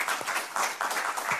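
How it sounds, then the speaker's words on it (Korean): A small audience claps to welcome a speaker, a short burst of close, uneven hand claps in a loose rhythm. "박수로 부탁드립니다."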